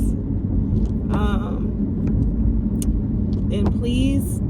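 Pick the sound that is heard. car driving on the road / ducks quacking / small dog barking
car driving on the road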